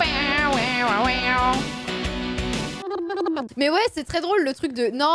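A cat meows repeatedly in drawn-out, wavering cries, close up, with people talking and laughing around it.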